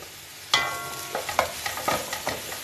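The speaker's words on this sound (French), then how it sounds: "On rajoute nos champignons." Mushrooms being stirred in a frying pan: faint sizzling and scattered clicks and scrapes from a utensil, quiet and close, with no talk.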